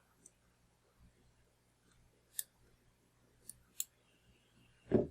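Small scissors snip a few times close by, trimming the butt ends of material on a Smoky Mountain Candy dry fly, quiet crisp clicks spaced apart with a louder handling bump at the end.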